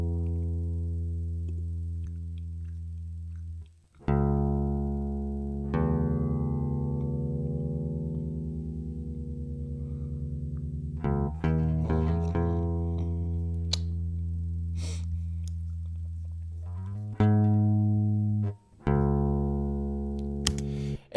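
Electric guitar played raw through no effects: sustained clean notes and chords ringing out, several separate strummed attacks with long decays, close and fairly loud, no talking.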